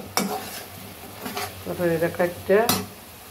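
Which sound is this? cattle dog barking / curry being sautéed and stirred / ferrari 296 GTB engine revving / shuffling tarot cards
curry being sautéed and stirred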